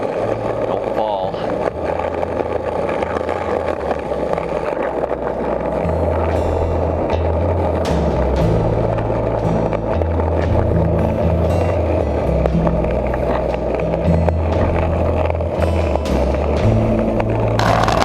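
Skateboard built from 1,760 strips of paper rolling and turning, a continuous gritty rumble of wheels on pavement with low uneven thumps, steady and close throughout.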